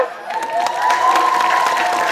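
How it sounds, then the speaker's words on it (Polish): Crowd cheering and applause greet a new talk show introduced at an engagement party, with whoops and shouts rising over dense clapping and holding loud for about two seconds. "Wielkie brawa."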